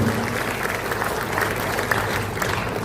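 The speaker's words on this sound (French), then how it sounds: "Applaudissez la reine moyenne et le travail." An audience at a speech honouring award winners claps steadily and densely, a continuous wash of applause with no single standout claps, fairly close.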